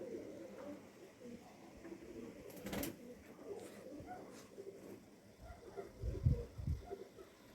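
Pigeons coo softly outdoors with low, throaty calls near the end, and a brief flutter of wings stands out midway over quiet ambient noise.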